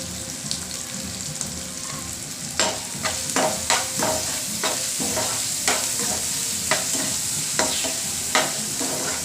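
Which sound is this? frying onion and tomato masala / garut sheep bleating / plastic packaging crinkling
frying onion and tomato masala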